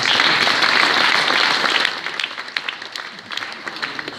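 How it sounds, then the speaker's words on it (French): An audience at the inauguration of a Linux facility applauds the mayor of Limonest. The clapping is loud and full, then thins after a couple of seconds into scattered, separate claps. "Je crois qu'on peut l'applaudir"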